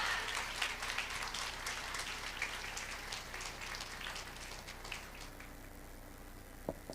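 Church congregation applauds during a Hindi sermon, a faint, steady crackle of scattered clapping that thins out and fades toward the end, heard from a distance.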